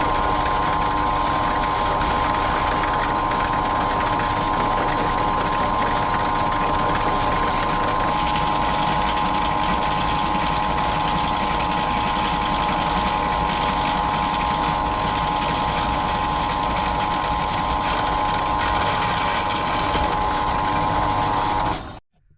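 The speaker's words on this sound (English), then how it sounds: "Going a bit with a side drill" A side drill bores through a custom motorcycle oil line part, a continuous close whirring grind with a steady high whine that holds throughout and stops abruptly at the end, with no talking.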